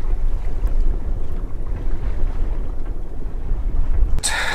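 A Comfortina 32 sailboat fitted with a Windpilot Pacific wind steering gear sails in light wind, with a constant rumbling wash of wind and water and a brief bright hiss near the end.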